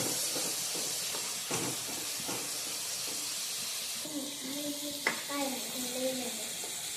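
Bottle gourd peels sizzle in a pan, a steady hiss of sautéing throughout with a few clinks; a voice chimes in faintly toward the end.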